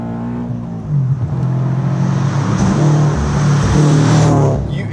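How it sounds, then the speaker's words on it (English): A 2020 Subaru BRZ tS Final Edition engine revs hard toward redline, its loud droning note climbing steadily in pitch over several seconds, heard from inside the car while driving. "Find myself definitely wanting to rev it closer to redline than I would a stock BRZ"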